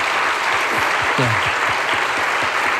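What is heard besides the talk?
applause congratulating the newly married couple at a wedding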